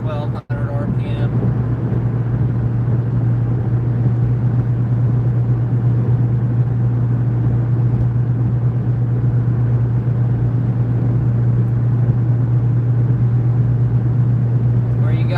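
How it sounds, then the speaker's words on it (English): A 2013 Chevrolet Corvette C6 with the LS3 V8 cruising in sixth gear near 1200 RPM, giving a steady, loud low drone with constant road rumble throughout and no speech. "Cruising here in 6th gear. Doing about the speed limit, like 1200 RPM."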